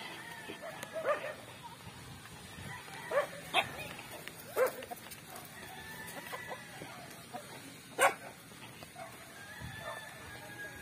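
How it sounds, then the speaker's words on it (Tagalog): Several dogs bark in short separate bursts, some near and loud, others farther off, over a busy outdoor background with a rooster-like call mixed in. "daming aso guys"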